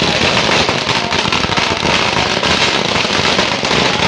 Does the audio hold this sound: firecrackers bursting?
yes